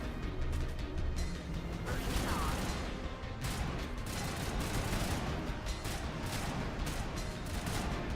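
Sustained gunfire and weapon mechanisms from the Mass Effect Legendary Edition shooter game, dense, continuous bursts filling the whole stretch, fairly loud and busy.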